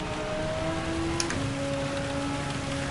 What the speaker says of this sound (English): This is the worst possible track in the game to have rain on.